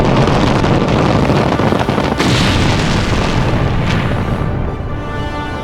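A huge rocket roars through liftoff, a loud, continuous broadband rumble like a bomb going off that fills the whole stretch, with crackling bursts and a slight easing toward the end.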